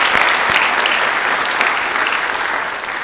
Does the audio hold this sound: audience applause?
yes